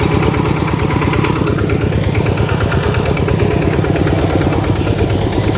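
A motorcycle engine runs steadily while the bike reverses during earth digging at a home, a loud, close, continuous mid-pitched putter with no talk.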